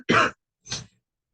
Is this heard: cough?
yes